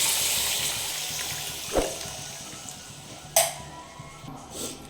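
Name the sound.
pouring dissolved tamarind water into the curry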